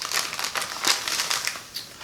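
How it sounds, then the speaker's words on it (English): The plastic packaging of a Kwanzaa yarn advent calendar holding a mini skein of brown sock yarn crinkles up close, in short bursts of rustling and crackling over two seconds. "I've already opened the package, but I have not looked inside so that would have less crinkling."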